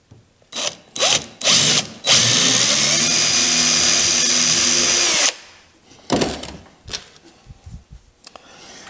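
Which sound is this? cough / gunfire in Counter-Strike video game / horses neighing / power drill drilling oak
power drill drilling oak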